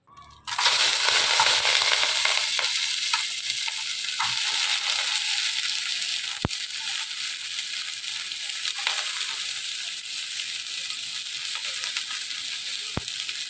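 Coconut oil heating and sizzling in a traditional bronze uruli over a fire while preparing village-style roasted country chicken curry, a steady loud crackling fry that runs continuously with a couple of sharp clicks.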